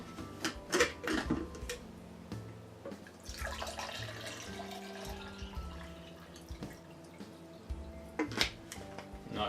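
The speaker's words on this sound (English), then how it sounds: "I'm going to get my other cup of water in there and going for my cup of tea." Water is poured into a cup for tea in a desktop cooking setup, trickling and dripping in short irregular bursts with clinks and small handling knocks around it.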